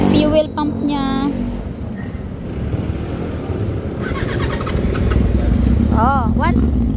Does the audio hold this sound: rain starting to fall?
no